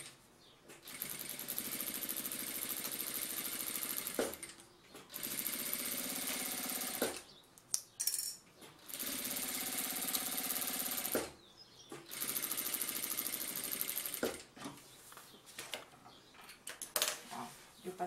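Sewing machine stitching a seam on a chic waist bag, running in several sustained bursts of steady rapid whirring separated by short pauses, close and fairly loud.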